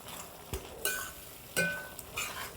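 Ginger garlic paste sautéed in oil for a village-style chicken gravy: a soft background sizzle broken by a few sharp spoon clinks and scrapes against the pan, faint and close.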